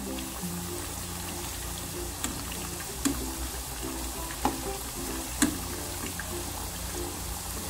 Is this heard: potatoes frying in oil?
yes